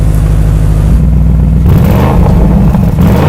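An Audi RS Q8 Performance SUV engine, 2026 model, rumbling loudly up close, with a deep steady drone that shifts and swells as the revs rise.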